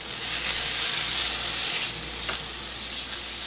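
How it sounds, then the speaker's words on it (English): Butter melts in a pan over medium-low heat with a loud, steady, close sizzle and hiss that eases slightly after the first couple of seconds, with no talking. "So I've got it over about medium low heat, and I'm going to add in my butter."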